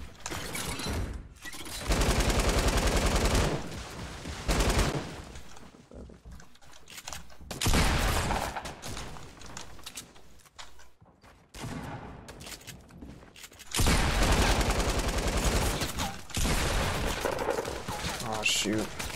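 Bursts of rapid gunfire from a Fortnite Battle Royale firefight, several loud fusillades separated by brief quieter gaps, close and dense, with faint voices around them.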